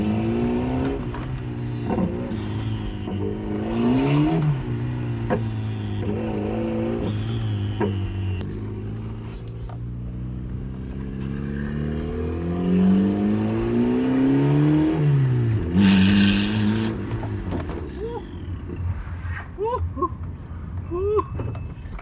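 A turbocharged Honda Accord CG6 pulls hard in second gear down a street, engine note climbing steadily through rising sweeps, easing, then climbing again, heard from inside the car with a few voices over it.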